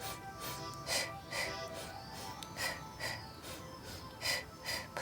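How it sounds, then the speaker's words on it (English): Breath in a Pilates exercise on a ball comes as short, forceful staccato puffs, about eight close and fairly soft exhalations in a steady rhythm, with no one talking. "And you can take some easy staccato rhythm breaths,"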